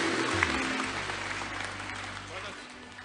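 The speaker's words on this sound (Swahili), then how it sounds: "Tumpe Yesu makofi mazuri." A church congregation applauds after a testimony during a worship service, a loud wash of clapping that gradually fades over a few seconds, with voices mixed in.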